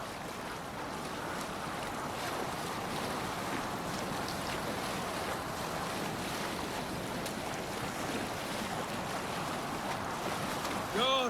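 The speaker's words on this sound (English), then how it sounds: "Gods, I love being out on the open water. The chill, the mist, the rolling waves." Rolling open-water waves and wind around a sailing longship in Assassin's Creed Valhalla, a steady washing, rushing wash of sea and breeze that holds constant throughout without talk.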